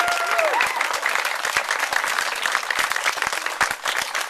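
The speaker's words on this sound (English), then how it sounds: "Please give them a round of applause." Loud, sustained applause and clapping from a crowd at the grand opening and ribbon cutting of a children's theatre in Knoxville, dense and continuous for over four seconds, with a brief voice near the start.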